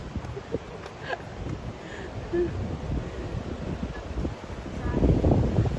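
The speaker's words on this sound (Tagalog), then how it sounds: "Ang sarap ng hangin." Wind gusts outdoors in a provincial spot, rumbling low across the microphone and building stronger toward the end, with a few faint rustles and a voice now and then.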